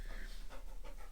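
Rapid, breathy panting from a puppy, steady and close, with quick rhythmic huffs running the whole way through and no talking over it.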